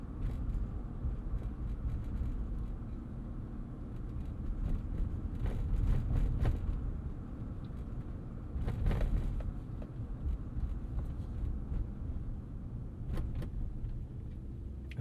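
A 2013 Chevrolet Avalanche pickup with a 5.3-litre V8 grumbling at low revs while driving around town, a steady low rumble heard from inside the cab with brief clicks and rattles and no talking.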